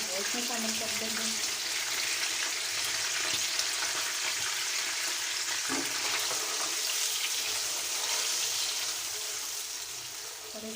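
Marinated chicken and green chilies fry in a pan with a steady, loud sizzle throughout, broken by faint clinks of stirring.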